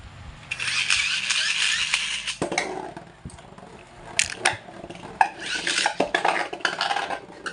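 Metal-fight Beyblade spinning tops clash in a new stadium, a steady metallic whirring rattle followed by scattered sharp clacks and scraping hits as the tops collide, close and fairly loud.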